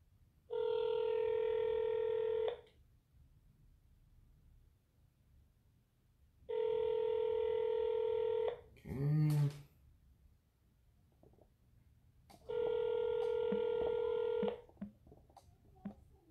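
A telephone call rings three times in long, evenly spaced tones, each ring a loud steady burst, with a brief clatter between the second and third before the call goes unanswered to voicemail.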